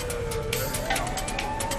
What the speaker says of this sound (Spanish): La ambulancia cruzaba el pueblo a toda velocidad